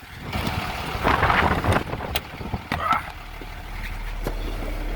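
Gusty wind buffets the microphone in rumbling bursts beside a 7200-volt single-phase power line, strongest in the first half, then settles into a steady low roar.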